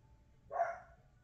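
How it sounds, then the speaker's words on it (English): One short bark from a pet puppy at home, faint and slightly distant, standing alone against quiet room tone. "I didn't even think about them barking, but I have two puppies and a cat."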